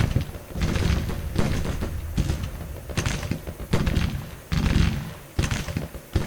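Breech-loading rifle fire rolls across a Grand Tactician: Civil War battlefield in repeated ragged volleys of thumping shots, dense and mid-distance, with brief gaps between bursts.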